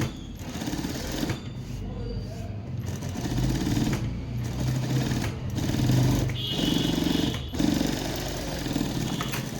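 A sewing machine stitches around the neck of a garment in rapid mechanical bursts with short stops, under a person talking.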